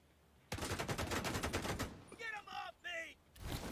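Sustained rapid automatic gunfire from a firefight in The Division 2, a loud dense burst of shots lasting over a second, followed by quieter bursts with voices talking in between.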